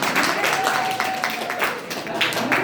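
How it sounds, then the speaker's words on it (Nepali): Classroom clapping during a lesson on transformers, a steady continuous patter of many hands filling the whole moment at fairly loud level, with a faint voice underneath. "हामीले के गर्नु त एकताल ताली बजा"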